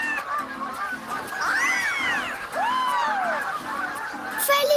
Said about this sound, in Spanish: Son muchos pájaros volando juntos.